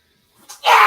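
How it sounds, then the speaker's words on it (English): A single short sneeze bursts out close by at the very end of a near-silent moment. "There's a sneeze again."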